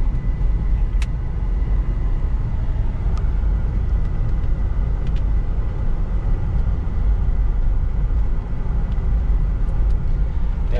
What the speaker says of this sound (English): This is actually a bumpy road.